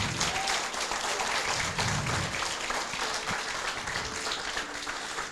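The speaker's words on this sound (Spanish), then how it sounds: "denle un aplauso a Dios" A church congregation applauds during a sermon, a dense, steady wash of clapping that carries on evenly for several seconds without talk.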